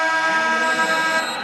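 A basketball game-clock buzzer sounds at the end of the half in a high-school state quarterfinal, a loud, steady electronic tone held throughout.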